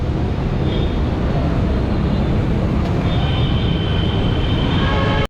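An LRT train rumbles overhead along Rizal Avenue in Manila, a loud, continuous roar of wheels on elevated rails with a thin metallic squeal, heard from the street below before cutting off abruptly.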